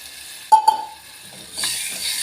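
Water poured into a hot pan while cooking patodi curry; a couple of sharp clinks come first, then a steady close hiss of sizzling steam builds and holds.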